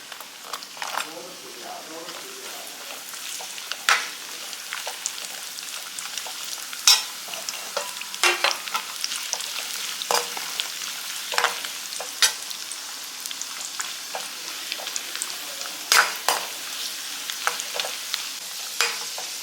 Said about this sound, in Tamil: இப்போ முந்திரி கிஸ்மிஸு நல்லா வறுத்துட்டோம்